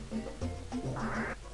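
A duck enemy in the Earthbound video game quacks several times in quick succession, nasal and fairly close, over a steady game soundtrack with no talking.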